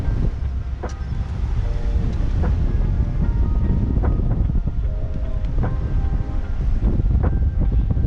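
Strong, continuous wind buffeting the microphone on a sailboat offshore at sea, with a low rumbling roar and steady gusty pressure throughout, no voices.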